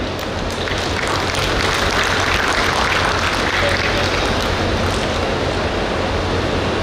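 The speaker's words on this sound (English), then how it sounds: "Give them a big hand." Loud, sustained applause from an audience at a nursing and allied health sciences college event, honouring proud parents and guardians; a dense, steady roar of clapping fills the clip from start to finish.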